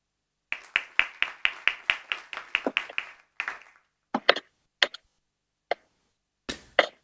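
Audience clapping at the close of a talk during a study day on the French Southern and Antarctic Lands, a short burst of separate claps at first, then thinning into scattered, isolated claps that trail off.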